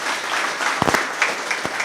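Audience applause for an army trainee speaking at a talk: a steady wash of many hands clapping at moderate level, with a few sharper individual claps standing out near the middle.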